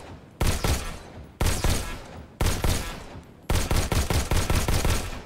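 Gunfire from weapons in the VR game Robo Recall: four loud bursts of rapid shots, each a tight cluster of cracks separated by brief pauses, the last burst longest with evenly spaced rounds, close and alone without talk.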